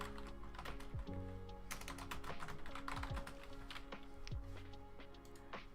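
Rapid, uneven typing on a computer keyboard, close and clear, with bursts of key clicks and brief pauses throughout; no talking.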